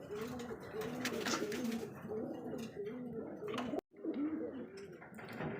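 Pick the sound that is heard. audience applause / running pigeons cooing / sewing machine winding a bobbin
running pigeons cooing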